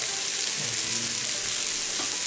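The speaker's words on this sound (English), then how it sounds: "So we're going to let this onion sweat out" Salted onion sautéing in an Instant Pot on sauté mode, a loud, dense, continuous hiss of sizzling close up, with a couple of faint stirring bumps.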